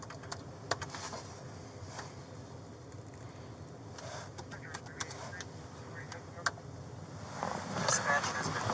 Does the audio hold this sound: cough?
no